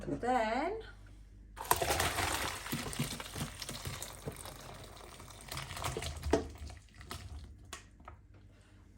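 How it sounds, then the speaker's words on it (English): Cooking liquid from a beef pot roast splashes and gurgles as it is poured out of an Instant Pot, a steady watery rush with small clatters, following a brief spoken voice at the start. "the next step is to drain your pot"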